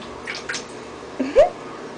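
Water sloshes and splashes in a small tub as baby snakes are bathed, with a few soft splashes and drips close by and a quiet background.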